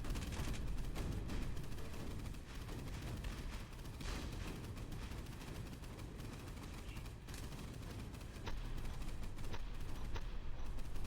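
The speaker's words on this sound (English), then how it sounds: "Flak guns are opening up." Flak guns fire in a submarine game, a dense continuous rattle of rapid bursts and booms that fills the whole stretch at steady loudness, with no talk over it.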